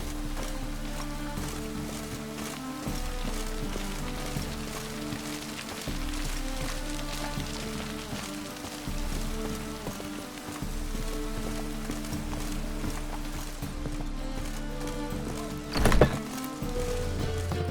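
Steady rain in The Witcher 3 falls as a constant hiss, with a rhythmic clip-clop of horse hooves and a low rumble underneath, plus a sharp brief accent near the end.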